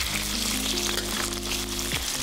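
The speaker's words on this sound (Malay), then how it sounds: "Bila minyak dah panas, masukkan udang dan goreng separuh masak dulu." Prawns frying in hot oil in a wok make a loud, close, continuous sizzle, with faint stirring clatter underneath and a low hum in the background.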